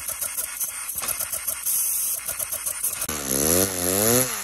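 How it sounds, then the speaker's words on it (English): A Lego pneumatic engine runs at high RPM on compressed air, giving a dense rapid mechanical chatter that shifts near the end into a louder rising and falling whine, all close up with no talking. "This engine has some high RPM capability, except for when you run it at 80 PSI."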